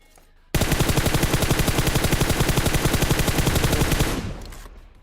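Rapid automatic gunfire in PUBG Mobile, a loud, dense burst of evenly spaced shots that runs about three and a half seconds before trailing off.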